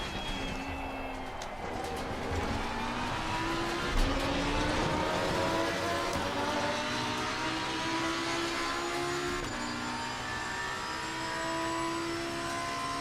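Ferrari race car from Assetto Corsa Competizione screams along with a steady, high-revving engine whine that climbs and shifts through gears, loud and continuous with no talking over it.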